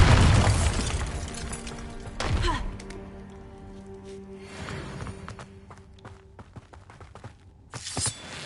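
A Bombarda spell blast goes off in the Hogwarts Legacy game, a heavy thud and boom near the start followed by rumbling, scattered debris thumps and tonal game sounds.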